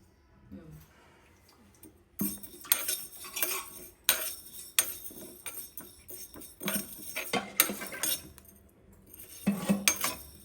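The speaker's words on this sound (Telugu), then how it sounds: "ఇప్పుడు స్టీల్ స్పూన్ తీసుకొని ఒకసారి అమ్మా. mix చేయి." A steel spoon stirs a cooking pot and clinks against it in irregular bursts of scraping and metallic knocks, loud and close, separated by short quiet gaps.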